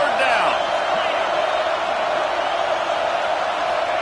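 Stadium crowd roaring at a football game on a big third down, a sustained wall of cheering and shouting that holds steady at full volume, with a voice talking over the noise.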